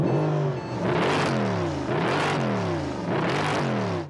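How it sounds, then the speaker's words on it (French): A supercar engine revs hard three times in quick succession, each surge climbing sharply in pitch before dropping back, loud and close with no talking. "On va écouter le bruit du moteur"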